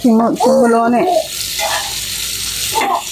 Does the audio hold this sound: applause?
no